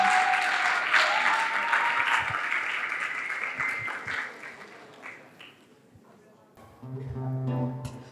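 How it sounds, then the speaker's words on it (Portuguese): Audience applause at a talk and live music program, a dense burst of clapping that fades out over about six seconds before a few musical notes begin. "Uma salva de palmas para eles"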